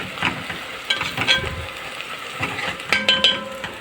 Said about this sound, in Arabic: عملت البصله والسمنه والزيت